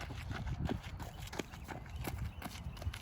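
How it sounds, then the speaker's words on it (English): A group of runners stomps heavily during a running drill, making a steady stream of dull, overlapping foot thuds on the ground, close and continuous over a noisy background. "Every time you hear that stomp, there's a jarring coming through your legs."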